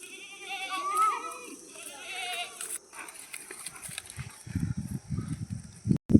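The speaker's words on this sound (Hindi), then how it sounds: "बकरा आ गया लो" A goat bleats several times, fairly close, at a river ghat in a village on a hot day, with wavering cries early on, then thumping and rustling handling sounds toward the end, a voice briefly heard.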